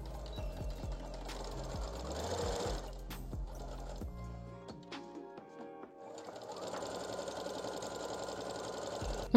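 Sewing machine stitching fabric ties in bursts, a fast close mechanical whir that starts, pauses around the middle, then runs again steadily, moderately quiet with no talk.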